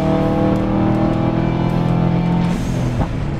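A 2012 Subaru engine with water-methanol injection pulls hard after a downshift, a loud, close, rising engine roar with steady harmonic drone that shifts pitch partway through the run.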